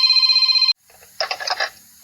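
An electronic telephone ring sounds steadily for under a second, then cuts off; after a short silence a second burst of ringing follows.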